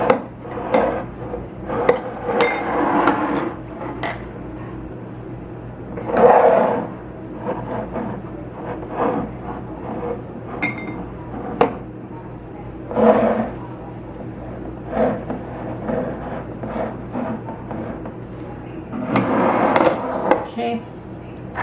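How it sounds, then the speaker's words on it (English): Glass canning jars are set down one after another into a metal canner, giving irregular clinks and knocks spread across the stretch, with someone talking in between. "put them in the canner"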